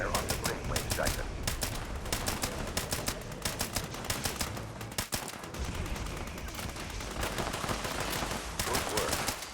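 Rapid automatic gunfire in Fallout 76 rattles in dense bursts with brief gaps, loud and close, while game sounds churn underneath.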